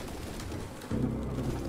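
Pigeons coo in Detroit: Become Human, a soft burst of low, rolling bird calls rising over a dim room ambience partway through, with no talking.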